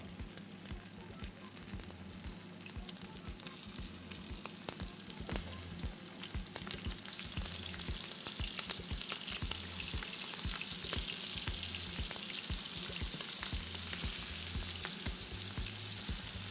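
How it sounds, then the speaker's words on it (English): Pieces of meat fry in a very hot pan with continuous close sizzling and rapid spattering crackles that build gradually, with no voices over it. "And now little by little, add the meat. Starts to fry."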